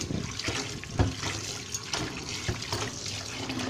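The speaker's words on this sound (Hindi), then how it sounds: "ऐसे हम मल मल के इसे धोएंगे, 5-6 पानी हम इसे धोएंगे" Bitter gourds are rubbed and washed in water, giving soft, continuous splashing and sloshing with a few sharper knocks. The sound is close and moderately quiet, with no speech.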